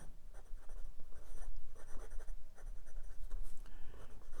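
Hongdian N23 Year of the Rabbit fountain pen with a medium steel nib scratching across Clairefontaine 90 gsm paper, close and quiet, with short irregular strokes and brief pauses.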